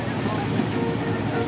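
A passenger launch moving on monsoon-swollen river water near a riverside cattle market, giving a steady broadband wash of water and engine rumble with wind buffeting the microphone throughout.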